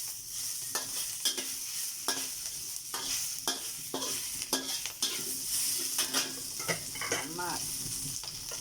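Hokkien black noodles sizzling and stir-frying in a very hot wok, with repeated sharp scraping stirs of a spatula at an uneven rhythm, close and loud.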